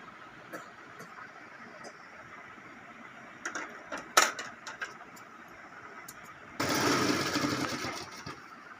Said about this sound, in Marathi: आपण दोन इंचापर्यंत शिलाई मारत आहोत